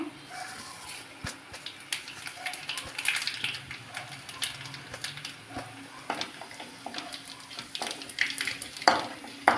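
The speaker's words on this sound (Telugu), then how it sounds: "జీలకర్ర వేస్తున్నాం" Cumin seeds tip into hot oil for a prawn and raw mango curry with radish chutney, giving a steady close crackling sizzle with scattered sharp pops and light stirring throughout.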